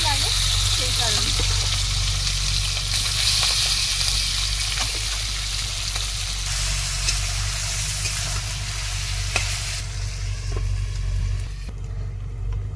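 Marinated fish, prawns and tilapia among them, fry in hot oil in a wok in a village kitchen, giving a steady broadband sizzle that runs throughout under a low hum and occasional background noise.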